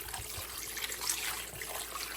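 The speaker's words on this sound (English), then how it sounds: "So after mixing, I add in some water." Water pours steadily into a cooking pot of egusi soup with meat, a continuous trickling, splashing stream heard close up with no talking.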